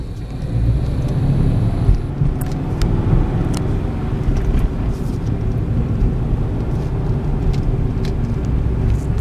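A car drives down a residential street past houses, giving a steady, close rumble of engine and road noise throughout, with no talking.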